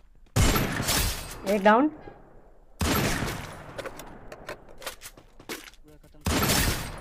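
Heavy M82B sniper rifle shots in the Garena Free Fire battle royale game: several loud sharp cracks spaced seconds apart, each with a brief ringing tail, with a player commenting in between.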